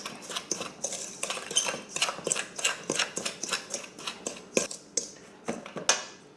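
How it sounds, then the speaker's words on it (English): White and brown sugar stirred together in a bowl with a utensil, a steady series of close, crisp scraping and clinking strokes in an even rhythm, with no talking. "So you want to stir this up."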